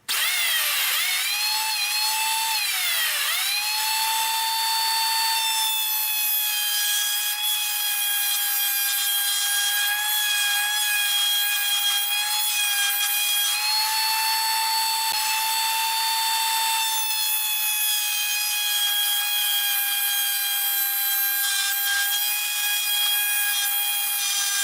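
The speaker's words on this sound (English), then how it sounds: "I'm going to do the walnut piece, and I'm going to start by just making a skim cut" A router spinning up then holding a steady high whine with harmonic overtones, making a shallow skim cut on a walnut piece with half the bit exposed, loud and continuous with no talk.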